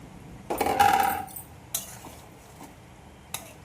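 Eggs go into a mixing bowl while homemade biscuit dough is prepared. There is a short burst of clinking and clattering against the bowl, followed by a few faint, isolated taps in a quiet room.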